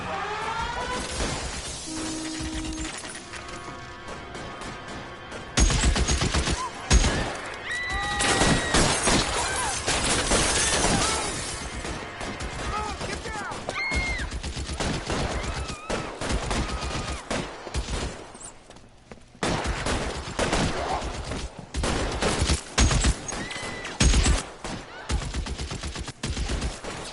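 Gunfire in an L.A. Noire police shooting scene: repeated loud bursts of shots, cracks and shattering glass, clustered in dense volleys with brief lulls, set against tense game music.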